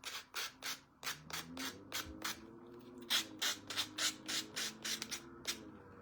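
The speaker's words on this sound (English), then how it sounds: "it makes it really easy to sand" Hand sanding of a vintage standing bunny figure: a steady run of short rhythmic rasping strokes, close and fairly loud, repeating throughout with no talking.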